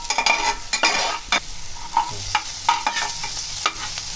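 Potato pieces sauté in a pan, a soft sizzle under frequent scraping and clattering stirs of a spoon against the pan, several sharp knocks in quick irregular succession, close and fairly loud.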